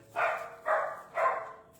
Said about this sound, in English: in the background doing her barky bark